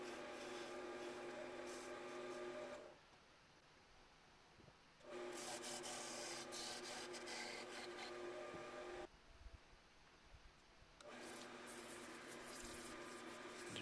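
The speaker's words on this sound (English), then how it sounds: "Got this small little gouge that just works perfect for some of these little areas." A small gouge carves wood on a handmade Christmas snowman, giving close, dry scraping strokes in three long bursts separated by short quiet pauses.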